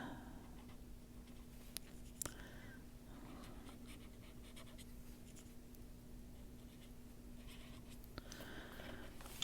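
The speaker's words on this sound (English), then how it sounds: "Pencil's making noise on the desk." A pencil scratches steadily across a desk, a continuous soft rasp with a few sharper ticks, close and alone over a low steady hum.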